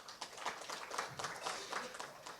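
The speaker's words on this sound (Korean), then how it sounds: "우영택 과장님께 다시 한번 큰 박수 부탁드립니다" A forum audience applauds a presenter at a food and drug safety event, with soft, distant, diffuse clapping at low volume throughout.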